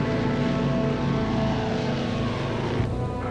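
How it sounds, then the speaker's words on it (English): Propeller airliner engines droning steadily in flight, a loud, continuous cabin-filling hum with a dense low rumble and no pauses. "Once they're up in the air, Sean flies the plane while Joe and Robert join Mikey in the cabin."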